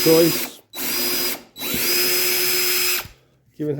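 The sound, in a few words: drilling a pilot hole in wood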